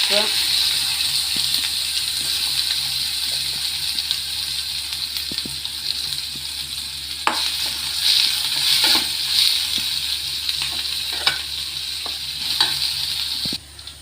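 Coconut oil frying in a pan for a beef roast, giving a steady, loud sizzle that hisses continuously throughout, with a few faint clicks and knocks and a brief break right at the end.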